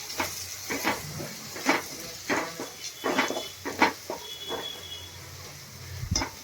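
Spice masala of red chilli, coriander-cumin and garam masala powders stirred into gravy in a pan for dal khichdi: repeated scraping and clinking strokes of a spoon against metal over a faint sizzle, close and steady.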